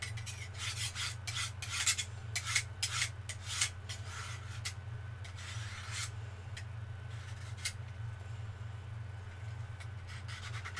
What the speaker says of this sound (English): that was a good sharpen.